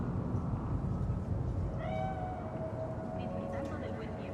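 A bakeneko cat spirit in Cyberpunk 2077 on PS4 gives a few drawn-out meows partway through, set over a dense, steady bed of game ambience and rumble.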